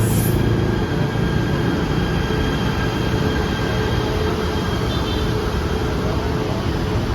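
A loud, steady rumble of a train with continuous rolling noise, close by and filling the whole stretch without letup.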